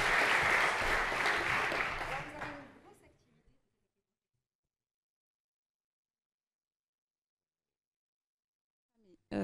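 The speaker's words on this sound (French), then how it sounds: "on peut l'applaudir" An audience applauds a hospital director invited onto a conference stage. The clapping is strong for about two seconds, then fades out into near silence.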